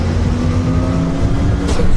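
Close, loud engine drone of a Spec Miata race car accelerating, a steady throaty roar with rising pitch carrying through the whole stretch, no voices.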